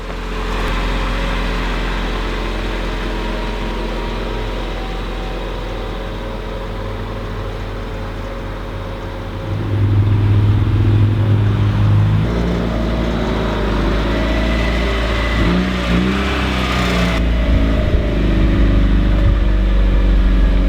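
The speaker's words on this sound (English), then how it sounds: "I'm gonna go ahead and take it for a quick drive." A lifted widebody Mazda Miata on a short test drive, its mid-pitched engine droning steadily and then growing louder and rougher partway through as it accelerates, with road noise underneath.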